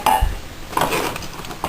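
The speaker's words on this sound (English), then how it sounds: "Here's another one of those pie pan or muffin pans." Metal pie or muffin pans being handled during a thrift-store haul, giving a brief clatter and a couple of light clinks near the microphone, with a soft rustle continuing afterward and no speech.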